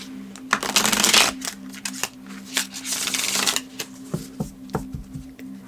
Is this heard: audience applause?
no